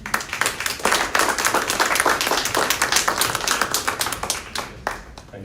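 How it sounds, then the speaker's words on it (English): Audience applause at a talk on healthy living, a crowd clapping loudly with dense, irregular hand claps that taper slightly toward the end. "So let's introduce them with a big applause, please."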